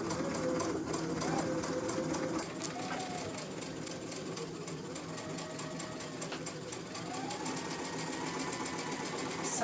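A sewing machine runs steadily while stitching close along the edge of a pleated fabric mask, a continuous near whir with slight changes in pace throughout.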